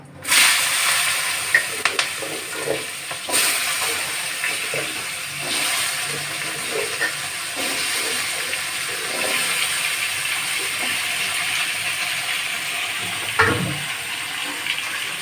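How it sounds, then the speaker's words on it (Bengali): Potatoes frying in hot oil with cloves, salt and turmeric give off a steady, loud sizzle with scattered crackles and a brief clatter near the end. "আমরা আলুগুলো লাল লাল করে ভেজে নেব"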